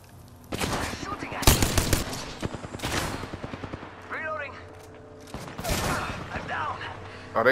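Bursts of rapid Alternator SMG fire crack out in an Apex Legends firefight, several loud volleys with short gaps between them, and a few faint voice fragments sit underneath.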